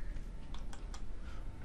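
A few quick computer keyboard keypresses for an Alt+7 shortcut, three or four light clicks close by over a low background hiss.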